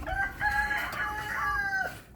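A rooster crows in a long, drawn-out call, with Dekalb Brown laying hens clucking faintly in the background on a small egg farm. No one speaks.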